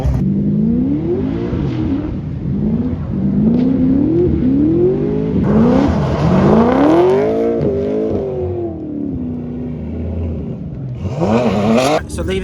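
A short-wheelbase Holden Commodore with half its tub chopped off revs hard at a drift event, its engine repeatedly rising and falling in pitch close by, with crowd noise and voices underneath.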